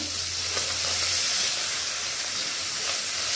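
Saltfish fries in a pot with a little oil, giving off a steady, close, loud sizzle and hiss that runs unbroken with no talking.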